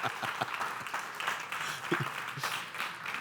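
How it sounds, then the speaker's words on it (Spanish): Church congregation breaking into applause, a fairly quiet, somewhat distant patter of many hands clapping with a few sharper individual claps. "Denle un aplauso al Señor."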